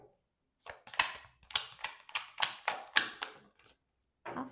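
A clarifying tarot card is pulled from an envelope, heard as a quick series of crisp paper flicks and snaps in an uneven rhythm, close and clear with no voice.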